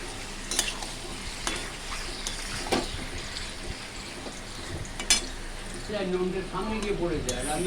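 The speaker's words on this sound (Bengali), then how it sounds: "মাংসটাকে ভালো করে জল ঝরিয়ে আমি কড়াইতে দিয়ে দিলাম" Washed, drained chicken pieces for methi chicken sizzle steadily in a wok, with scraping stirs and occasional metallic clinks of the utensil against the pan, and a voice talking over the last seconds.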